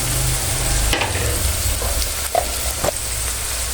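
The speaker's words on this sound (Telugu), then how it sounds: "మూత వేసి ఒకసారి కలుపుకుందాము. ఫ్రై అయ్యింది." Broad bean curry sizzles steadily in a pan while a spoon stirs it in a few scraping strokes, a continuous close frying hiss throughout.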